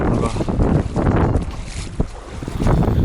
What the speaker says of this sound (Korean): 완전 밥 먹고 왔더니 태풍이네, 태풍